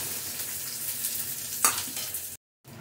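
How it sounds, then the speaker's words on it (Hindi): Cumin, two red chillies and a large onion fry in hot oil, making a steady close sizzle with one brief stirring scrape, then a short silent gap before the sizzling resumes. "ऑयल गर्म हो गया इसमें हम डालेंगे जीरा मैंने दिया है दो रेड चिल्ली और ये प्याज"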